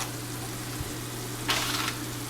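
Fish fried in a pan in a small kitchen, giving a faint steady sizzle with a brief brighter burst of crackle partway through and a constant low hum underneath.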